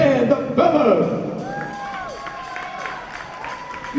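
A festival crowd cheers, whoops and claps for a singer and her band at an outdoor jazz and blues festival, a loud swell at first that settles into steady cheering with scattered high whoops.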